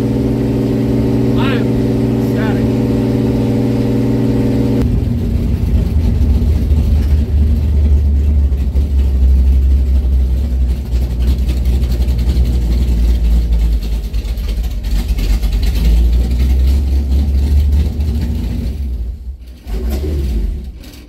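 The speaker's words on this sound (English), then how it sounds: "We're going to Sykeston with this car running and driving for the first time in 20 years." A 1968 Plymouth Barracuda V8 idles and runs continuously with a loud, deep, steady rumble that swells slightly mid-way and dips near the end, with people talking over it.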